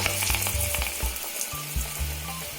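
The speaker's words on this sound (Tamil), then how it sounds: "எண்ணெயில் நம்ம போட்டுக்கலாம்." Toor dal bonda balls frying in hot oil: a dense, steady, close sizzle and bubbling with a low hum underneath, continuous throughout and without any talking.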